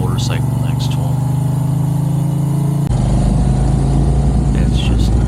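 A Moto Guzzi V7 Racer motorcycle on a morning road ride, its engine droning steadily with a loud low hum and wind rush that shifts in tone midway as the rider changes speed.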